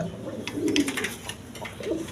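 Lakkha fancy pigeons give soft, throaty coos, two or three rolling calls close by, with faint clicks and shuffling in the background.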